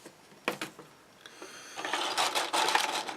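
Model railway tracks swished and clattered about in a bowl of cold water, a few sharp knocks at first, then a busier splashing, sloshing rattle building up close by.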